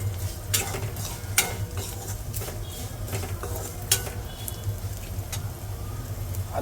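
Turmeric is stirred into thin poha chivda in a pan, a steady dry sizzle with repeated scraping and clicking strokes of a spoon against the pan.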